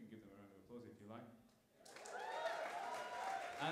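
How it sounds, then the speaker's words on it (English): Applause from a live music audience swells up after a quiet moment, a dense wash of clapping that follows an announcer speaking from the stage. "You can give them a round of applause if you like."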